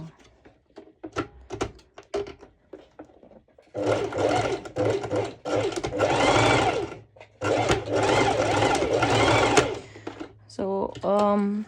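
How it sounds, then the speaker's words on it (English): A sewing machine stitches stretch fabric straps for an adjustable sporty top, running in two long loud bursts after a few quiet clicks and handling sounds, with a voice speaking at the start. "if the sewing machine does not want to sew over like thicker bits"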